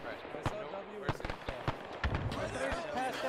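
Mortar rounds exploding in the Arma military game, several sharp booming blasts at irregular intervals against a busy, noisy background with voices talking.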